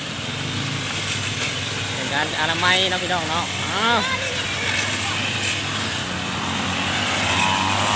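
A steady engine drone runs throughout, like a grass trimmer motor nearby, with someone talking over it.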